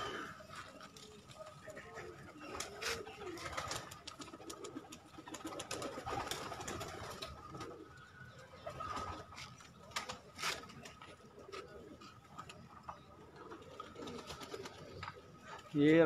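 Pigeons coo softly on a rooftop, low repeated calls mixed with wing flutters and scattered clicks, while someone talks at intervals over them.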